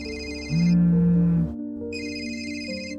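A phone ringtone plays loudly, a bright electronic melody of layered tones that shifts pitch partway through, heard alone without voices.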